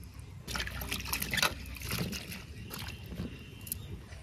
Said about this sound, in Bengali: আলু ফুলকপি এখন একসাথে ধুয়ে দিয়ে দিব